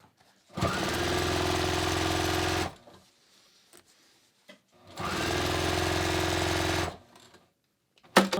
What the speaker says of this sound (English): I'm just gonna stitch along the waistline edge here so I can get rid of those pins.